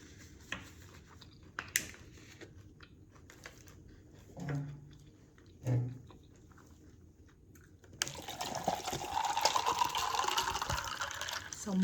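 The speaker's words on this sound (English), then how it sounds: "Some water." Water is poured into a glass in a bright, gurgling stream lasting a few seconds near the end, preceded by quiet clinks and small handling sounds.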